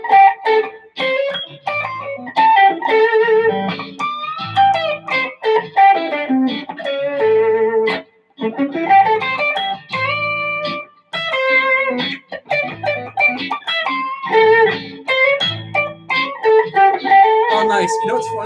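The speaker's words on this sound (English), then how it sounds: "the distortion setting I have on this" An electric guitar played through a distortion effect, busy picked melodic lines sounding close and fairly loud for the whole stretch, with brief pauses between phrases.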